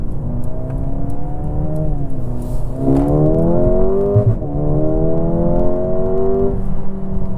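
A 2024 Mercedes CLA35 AMG engine in Sport Plus mode revs hard through rising gears, loud and close, with brief dips at each shift before climbing again.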